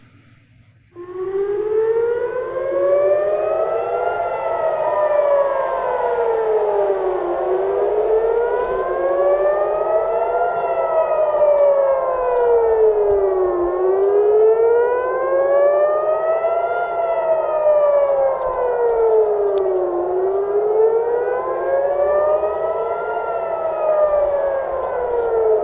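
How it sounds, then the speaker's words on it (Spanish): Air raid sirens from a civil defense warning system wail steadily for about 25 seconds, their overlapping tones slowly rising and falling in long cycles. The sound is loud and continuous with no voices over it. "en realidad suenan las alarmas."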